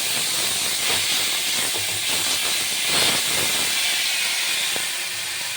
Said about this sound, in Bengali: এবার এই গরম তেলের মধ্যে আমি কালো জিরে দেব।